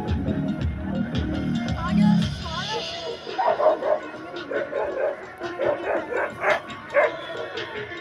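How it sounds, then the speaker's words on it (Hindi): Many dogs at an outdoor pet show in Abbottabad yip, whimper and bark in overlapping bursts amid a busy crowd, with people talking nearby throughout. "हाँ बहुत ज़्यादा कुत्ते हैं"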